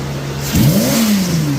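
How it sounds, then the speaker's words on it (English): An OBD1-era car engine is opened to wide open throttle from a steady idle, its pitch sweeping sharply upward and then holding at a high, sustained rev, close and loud with no talking. "Let me wide open throttle it again"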